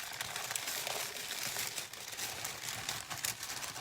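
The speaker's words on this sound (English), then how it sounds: "when I take the 1-gallon baggie and I kind of fold up the aluminum foil" Aluminum foil being folded and crumpled inside a 1-gallon plastic baggie during camp cooking, a close, continuous crinkling and rustling with a few sharper crackles, no talk.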